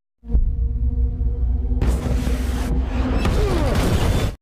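In a war film, an RPG rocket strikes a vehicle, sending it skidding onto steep rocks. A sudden heavy boom and low rumble give way to a burst of crashing, debris-like noise that stays loud until the end.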